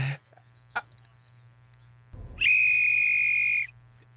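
A single sharp, sustained whistle blast about a second long, loud and clear, follows a couple of brief knocks over a low steady hum.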